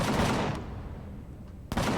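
Cannons in the space survival game Empyrion Galactic Survival firing as drones attack, a loud burst of rapid shots that drops away and then returns with another sharp blast near the end.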